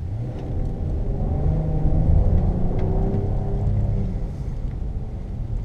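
A 2017 Acura MDX V6 accelerates hard, its engine growl building steadily and peaking midway before easing, heard as a loud low rumble from inside the cabin with no talk.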